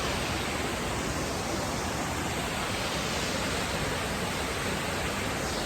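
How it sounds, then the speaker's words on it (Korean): Steady broadband roar of a large waterfall at a quiet, secluded scenic spot about half an hour's drive from town, continuous and unbroken, with no voices present. "여기 굉장히 폭포가 멋있습니다."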